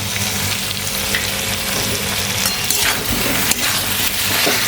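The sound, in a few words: biryani masala frying with jackfruit and turmeric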